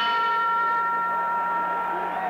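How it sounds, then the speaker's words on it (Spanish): A boxing ring bell at a 1970 professional bout rings out with one loud, sustained metallic tone that slowly fades over an arena's background noise. "La campana ha sonado"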